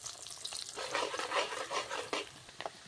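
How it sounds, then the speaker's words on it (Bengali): Coconut pieces sizzle in hot oil for chiri bhaja, a steady crackling fry with bursts of spatter and occasional stirring, close and fairly loud with no talking. "এরপর আমি তেলের মধ্যে দিয়ে দিচ্ছি।"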